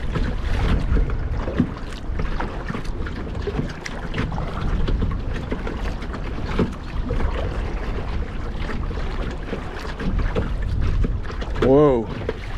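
Choppy water slaps and splashes around a kayak off north Titusville while gusty wind buffets the microphone, loud and close, with a voice speaking briefly amid the splashing.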